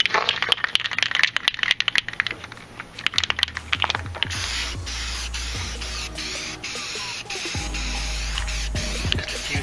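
A trailer is spray painted with Rust-Oleum paint, with close, hissing bursts of spray alongside clicks and handling noises, then a steadier hiss with low rumbling near the end.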